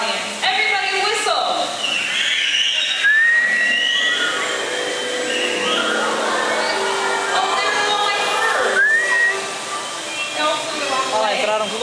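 A theme park show audience whistles together, a dense crowd of shrill whistles sustained across the whole stretch with crowd noise and voices mixed in.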